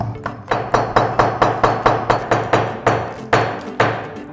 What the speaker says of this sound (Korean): 여기도 망치 한번 찍어요.